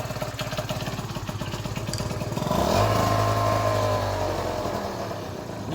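Yamaha Neos two-stroke scooter freshly tuned, idling with a rattly buzz before revving up into a higher, sustained whine and easing off, close up, no voices.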